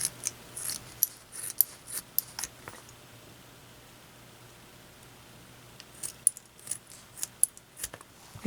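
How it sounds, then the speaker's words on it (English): Scissors snipping small soft plastic pencil grips into short pieces, a quick cluster of crisp close snips, a quiet pause, then another run of sharp cuts. "take a pair of scissors, and cut just a little bit"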